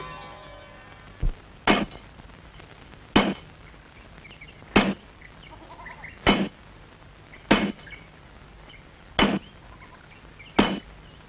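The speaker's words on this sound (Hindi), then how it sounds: "हथौड़ा मेरे को दो, मैं चलाती हूँ हथौड़ा।" A hammer strikes metal in a sharp, ringing series of about eight evenly spaced blows, with a few doubled hits, each one clear and loud against a quiet background.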